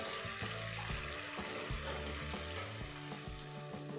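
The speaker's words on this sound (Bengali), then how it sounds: "এখন চিকেনের আরেক পিটো আমি ভালো করে ভেজে নেব।" Chicken pieces fry in hot oil for a butter chicken dish, a steady close sizzle with faint stirring clatter and no talk.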